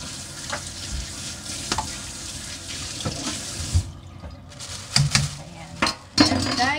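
Orange juice pours and splashes steadily into a container, a continuous watery gush with small clinks and knocks throughout.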